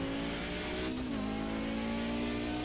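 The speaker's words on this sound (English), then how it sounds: "what I want is just the sound of the engine" A race car engine in a sim racing game, modelled on the Daytona 2.4-hour circuit, holds a steady high-pitched drone with a brief dip and climb in revs midway, loud and constant with no voices.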